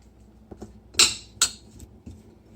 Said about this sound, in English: I'm going to take a spoon and stir them around